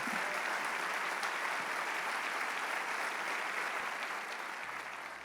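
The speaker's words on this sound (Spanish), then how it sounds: "Vamos a darle ese aplauso al Rey de Reyes." A church congregation applauds during a Spanish-language worship service, steady dense clapping filling the room from start to finish and easing slightly in the last second.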